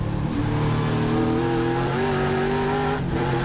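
Trans Am race cars at Thunderhill, with a Porsche Cayman among them, roar past close by, engines revving and rising in pitch as they accelerate, loud and continuous.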